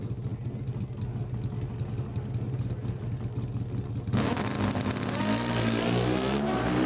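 Pro Stock Motorcycle drag race final round, with engines idling and burbling before a sudden loud roar as the bikes launch and scream away at full throttle.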